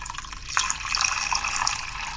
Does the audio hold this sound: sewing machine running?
no